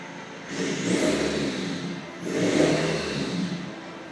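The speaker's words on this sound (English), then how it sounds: "I finally got the ECU sorted out. The car, as you can see, started." A BMW E90 car engine, just brought back from an ECU fault, runs and is revved twice in two swelling bursts over a steady idle, heard close and alone with no talking.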